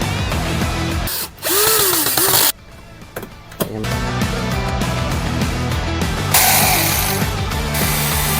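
Makita HR2630 rotary hammer running after a carbon-brush repair: loud bursts of motor whine and rattling mechanism, briefly cutting out and restarting a few times, close by with no speech.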